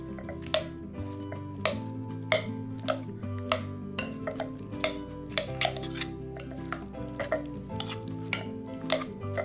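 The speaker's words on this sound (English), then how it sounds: "you're going to want to take 2 spoons, and you're just going to want to start mixing it" Two spoons mix guacamole in a bowl, making a steady rhythm of repeated scraping clinks and soft taps against the bowl, close by with no talking.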